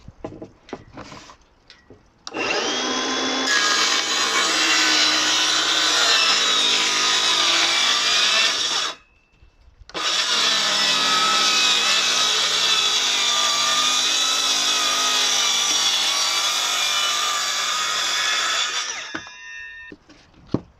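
A power saw cuts through wood for a reptile vivarium plinth, running loud and steady in two long passes split by a brief pause, with no talking.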